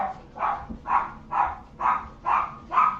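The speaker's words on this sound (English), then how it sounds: "I apologize for the dog in the back" A dog barking in the background of a house, six evenly spaced barks in a steady rhythm, moderately loud but somewhat distant.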